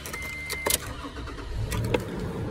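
A pickup truck is started with its key: a key jingle is followed by a brief cranking burst, then the engine settles into a steady idle, heard close with no talk over it.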